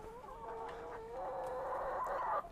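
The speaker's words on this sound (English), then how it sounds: "I need to enclose the chickens." Chickens in a backyard chook pen give steady, close clucking and murmuring calls that rise a little in the final second before stopping abruptly.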